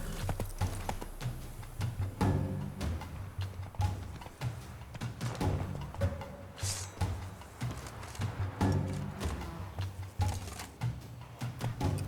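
A horse gallops in The Witcher 3 video game. Hooves clip-clop in a quick, rhythmic beat, close and clear, with an occasional snort or whinny and no talking.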